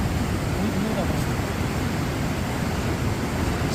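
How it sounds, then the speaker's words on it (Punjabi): The swollen Sutlej river roars at Ropar headworks with all gates open, a constant broad rush of water that stays loud and unbroken throughout. "ਵੇਖੋ ਠਾਠਾ ਮਾਰਦਾ ਸਤਲੁਜ"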